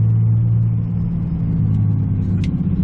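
A Cummins 5.9 diesel truck with a VGT turbo rumbles deeply as its exhaust brake engages, giving a steady, loud low drone with a faint whistle near the end and no talking.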